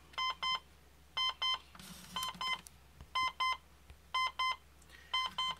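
A vintage Sony EZ-4 Dream Machine alarm clock radio beeps in repeated quick bursts of tones, regular and fairly loud, with a faint radio-like hiss between the bursts.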